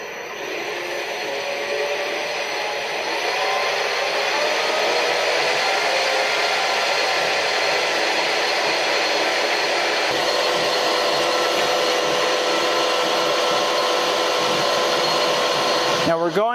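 Steady loud whirring drone of a metal lathe spinning at about 1,000 RPM while center drilling a hole, holding nearly constant throughout with a faint shift near the end.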